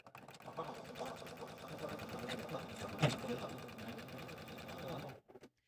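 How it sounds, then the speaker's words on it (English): A sewing machine stitches fabric pieces of a squirrel accessory together, running in a steady, close, rapid mechanical whir that continues for several seconds before stopping, with a voice talking over it. "So let's go sew those together now."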